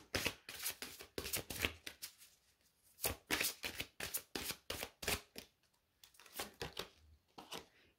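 Tarot cards being shuffled in repeated quick riffling bursts, close and crisp, with short pauses between shuffles and no talking.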